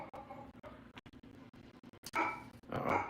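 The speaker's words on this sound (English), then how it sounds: "Oh, my dog must have seen another dog." A dog barks in a house, a string of short, sharp barks at moderate distance, with the loudest bursts coming near the end.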